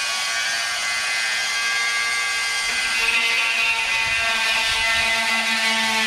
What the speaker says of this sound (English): Oscillating multifunctional power tool.